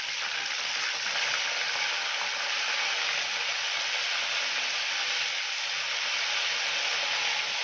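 Chicken pieces sizzle and fry in hot oil in a pan for pepper chicken, a constant bright hiss that holds level throughout with no voices over it.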